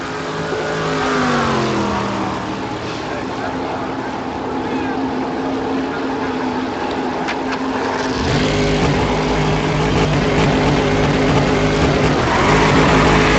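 A race car in a sim racing broadcast accelerates out of the pit lane after its final stop, engine revving loudly and rising in pitch, continuous and close throughout with a sharp change in tone partway through.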